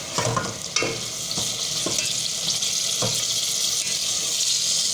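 A spoon stirs a qeema mixture of minced meat, onions, red chili powder and salt in a cooking pan, giving a sizzling hiss with scraping strokes repeated about once a second, close and loud.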